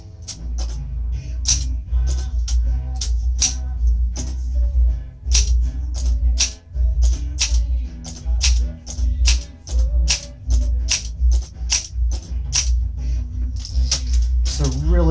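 A 1968 Olympia SM8 manual typewriter typing, its sharp key strikes landing in quick irregular bursts with brief pauses and carriage clatter, close and loud with no voices.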